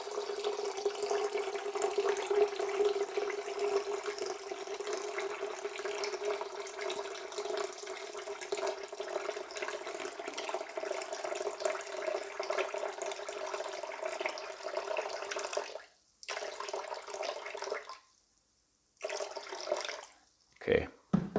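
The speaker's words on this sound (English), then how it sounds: "for that I'll just use cold water just to cool it down a little bit" Cold water runs steadily from a kitchen tap during bread baking, a close, even hiss that stops and starts in a few short bursts near the end.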